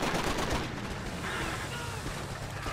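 Heavy machine gun fire in Call of Duty 2: Big Red One on PS2, a dense, loud, continuous rattle of rapid shots with overlapping battle noise throughout.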